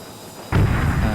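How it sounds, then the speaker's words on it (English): A sonic boom as an aircraft breaks the sound barrier in the video game Homebrew, one sudden loud explosive burst out of near silence, followed by a sustained heavy roar. "That explosion-like sound you just heard is me breaking the sound barrier"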